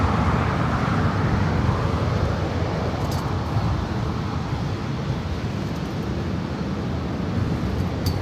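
A United Airlines Boeing 757-300 arriving at LAX on a flight from Honolulu, a steady, loud broadband roar of jet engine noise sustained throughout with no talking.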